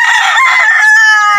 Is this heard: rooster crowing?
yes